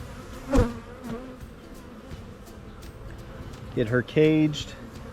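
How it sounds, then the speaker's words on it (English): Honey bees buzz around an open hive colony during an April inspection, a low constant hum near the mic, with a few louder close passes near the end and a voice talking quietly underneath. "There are a ton of bees on this side"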